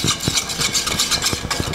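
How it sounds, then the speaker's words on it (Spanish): An electric hand mixer blends face mask ingredients including egg yolk, a steady whirring motor with quick rhythmic clicks and rattles, loud and close, with no talking. "Esta es una batidora linda."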